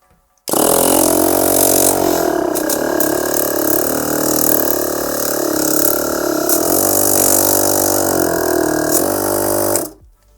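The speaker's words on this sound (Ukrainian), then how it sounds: "послухаємо, як буде працювати сам компресор" An AMIO ACOMP-06 portable car air compressor switches on and runs with a steady, loud buzzing drone for about nine seconds, then stops abruptly.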